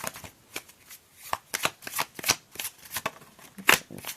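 Tarot and oracle cards are shuffled by hand in a series of quick, crisp riffling bursts, close and clear, with no talking over them.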